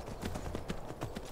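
Horse hooves clip-clopping in the Skyrim video game, a quick run of evenly spaced hoof strikes close up, with no talk over them.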